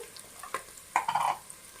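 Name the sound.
green chilies sizzling as they are added to a frying pan for crab curry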